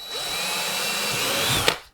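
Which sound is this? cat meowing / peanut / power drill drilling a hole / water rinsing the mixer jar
power drill drilling a hole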